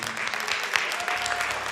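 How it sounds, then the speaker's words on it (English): A live audience at a university arts concert series applauds, a steady wash of many hands clapping at moderate loudness throughout, with faint voices and a brief whistle-like tone in the background. "can we get a big round of applause for Kutztown University, Kutztown, or KU Presents"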